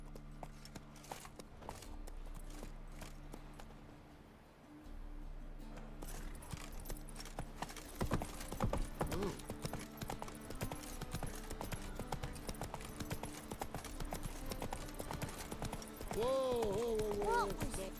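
The horse Roach in The Witcher III game trots with steady clip-clopping hooves under background game music, and the rhythm grows louder and denser partway through, with some faint sounds near the end.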